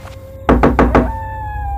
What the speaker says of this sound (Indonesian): Aku sempat kaget mendengar suara pintu depan yang diketuk.